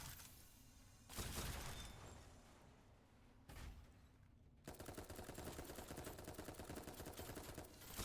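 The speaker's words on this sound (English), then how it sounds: "Like the gunfire effect itself is fine." Gunfire effects in a video game being tested, bursts of rapid shots alternating with quieter gaps, the final stretch a sustained machine-gun-like rattle, fairly faint and without talk.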